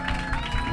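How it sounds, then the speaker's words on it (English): An album launch audience claps and cheers for Gloria in a short, dense burst of crowd applause. "a big massive round of applause for Gloria!"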